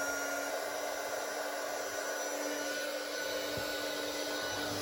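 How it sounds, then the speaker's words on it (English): A heat gun warming up for embossing gives a steady, close, even whir of fan and heater that runs on unbroken with no talking. "So I'm going to switch on my heat gun"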